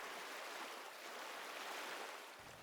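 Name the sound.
ocean waves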